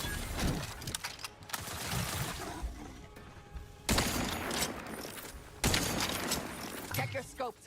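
Rapid gunfire bursts in a sci-fi shooter video game, loud dense volleys broken by short pauses with a clattering mechanical texture, voices talking over the shooting.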